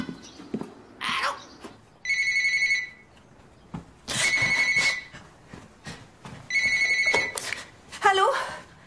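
A telephone rings in a French romantic drama film, sounding as repeated electronic trill bursts with quiet gaps between them, while other sounds and movement fill the pauses.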